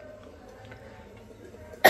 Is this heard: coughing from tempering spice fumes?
yes